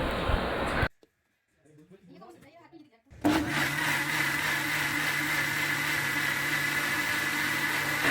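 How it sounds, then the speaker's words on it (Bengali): An electric kitchen blender whirs loudly as it blends a tomato sauce and milk mixture, running briefly, cutting out for a short pause with quiet voice, then resuming a steady, close high whine. "এটাকে আবারও আমরা ভালোভাবে ব্লেন্ড করে নিব।"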